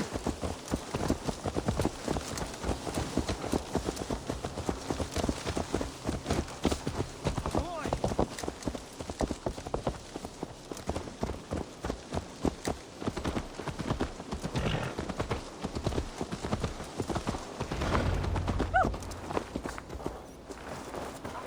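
Horse hooves clip-clop at a steady walking pace in Assassin's Creed Valhalla, moderately close and mixed with game ambience and voices talking over them.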